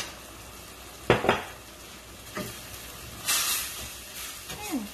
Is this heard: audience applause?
no